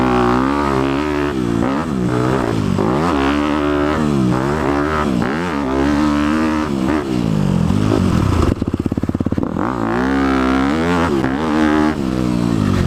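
A 2018 Honda CRF250 big-bore dirt bike ridden hard, its engine loud and close, rising and falling through repeated revs and gear changes, with a sharp clattering burst partway through.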